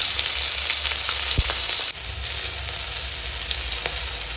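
Green chillies and five-spice seeds sizzling in hot oil, a close, steady, loud crackling fry with a brief clatter partway through.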